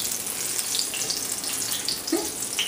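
Crawfish fritters frying in a hot pan on reduced heat, a steady, even sizzle with faint crackles and pops running throughout, no voices.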